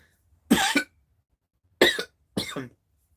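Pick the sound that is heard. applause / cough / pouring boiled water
cough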